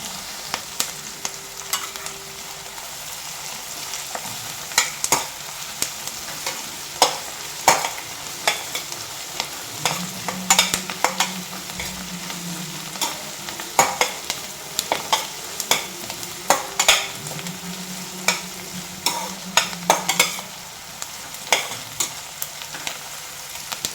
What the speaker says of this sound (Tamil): கொஞ்சம் கலர் மாறுற வர நல்லா நம்ம வதக்கிக்கலாம்